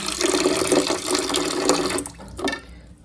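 Water is poured from a tap or jug onto soaked chickpeas, a steady close splashing rush that thins and fades out near the end.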